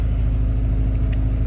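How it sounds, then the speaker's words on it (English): A Honda car engine idles at close range, giving a steady low rumble with even rhythmic pulsing and no other sounds over it. "I got the car idling"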